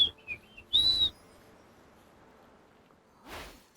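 A character in Infinity Nikki whistles a few short, bright notes, one held a bit longer, followed by a soft rustle, all close and clear over a quiet background.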